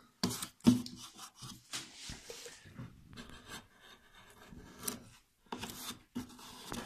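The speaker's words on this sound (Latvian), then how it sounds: "es griežu kādu 6. karotu, šodien kalds nav asināts" Close, uneven scraping and rasping strokes of an unsharpened chisel carving the bowl of a wooden spoon, in short bursts with brief pauses between them.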